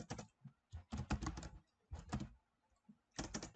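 Typing on a computer keyboard, close and quiet, in irregular clusters of quick key clicks separated by short pauses.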